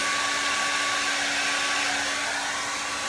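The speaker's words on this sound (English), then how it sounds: "So time to blow dry it with a hairdryer" A hair dryer drying acrylic pour paint blows steadily and loudly close by, a constant whooshing hum with a faint whine, no talking.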